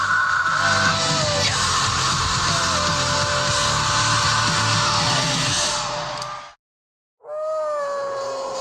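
Extreme vocal screaming, harsh and sustained at high volume with gritty yelling tones over loud backing, cutting briefly to silence before another scream returns.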